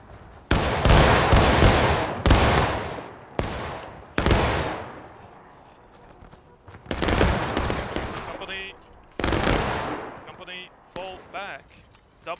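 A company of soldiers fires volleys at a wheel in a video game, several loud ragged bursts of massed musketry with echoing tails, separated by short pauses, while voices speak between the volleys.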